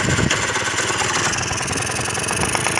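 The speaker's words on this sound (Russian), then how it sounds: "То есть на холостых он работает" A scooter engine with a carburetor fault idles without its main metering jet, a steady, close, noisy rattling hum with no talk.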